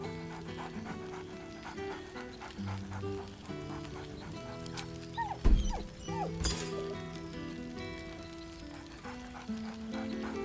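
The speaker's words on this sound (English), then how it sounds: "Scratch barks merrily in something like agreement" Scratch, the dog companion in Baldur's Gate 3, gives excited panting and a couple of short barks over soft background music, close and moderately loud, with a brief whimpering note.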